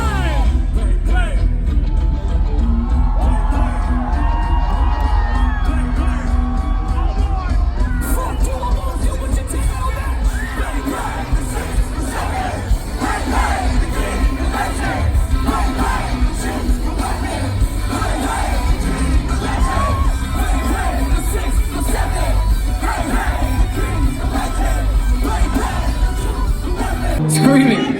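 A packed concert crowd at a show in Irving, Texas screams and cheers continuously, a loud dense roar with yells and whoops rising over it for the whole stretch.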